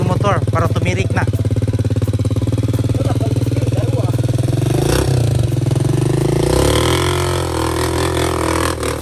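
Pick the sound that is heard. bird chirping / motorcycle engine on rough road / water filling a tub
motorcycle engine on rough road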